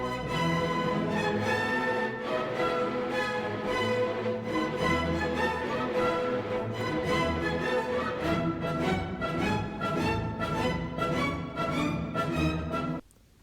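An orchestra plays the first theme of Beethoven's Symphony No. 7, first movement, in the dominant key, with full strings and winds sounding continuously at a moderate level before breaking off abruptly at the end.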